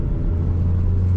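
A 2011 Proton Persona 1.6 automatic idling and lightly revving, a close, steady low engine rumble with a rising hum as the throttle is pressed.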